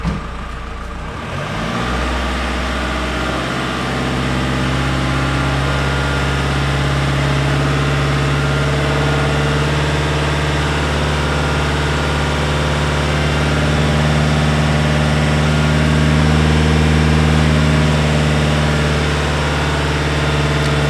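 A Fiat Multipla engine with a diesel particulate filter problem runs at a raised idle, a loud, steady, close low drone with a constant hum that swells slightly throughout.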